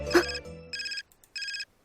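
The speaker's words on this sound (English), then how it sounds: "My cell phone suddenly beeps and brings me back to my senses." A cell phone beeps with two short bursts of repeated electronic ringing, close and clear, following a brief thud at the start.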